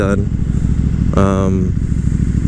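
A 2018 KTM 1290 Super Duke R motorcycle running steadily, its engine rumble continuous and close throughout, with someone talking over it.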